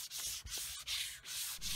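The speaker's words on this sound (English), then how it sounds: "it's back to more hand sanding with that flexible board." Hand sanding of a Coppercoat-coated boat hull with a flexible sanding board: repeated long, steady abrasive strokes in a close rhythm, separated by brief pauses, with no talking.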